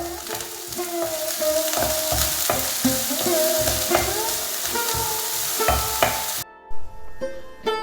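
Chopped onion sautéing with salt in a pan, a loud continuous sizzle with rhythmic scraping strokes of a spatula, then a brief drop to near quiet and a final few stirs, no one talking.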